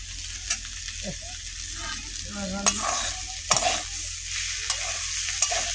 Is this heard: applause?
no